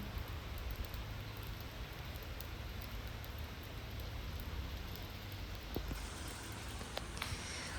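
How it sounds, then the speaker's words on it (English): Heavy rain pours steadily outside an old apartment building beside a small courtyard, a dense, constant hiss of downpour with no letup. "it started bucketing it down"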